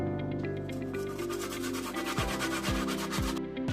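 Lemon zest grated by hand over a pile of bacon, a steady scratchy rasping that repeats in quick strokes, close and alone with a faint hum behind it.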